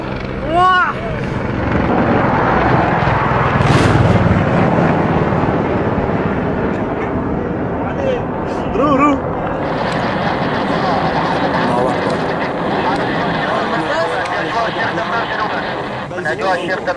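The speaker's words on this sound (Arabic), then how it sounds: "تحليق طائرات الاحتلال الروسي" Russian military aircraft flying over villages in Syria's Jabal al-Zawiya area, a loud continuous rumbling drone that persists throughout, with people shouting and talking over it.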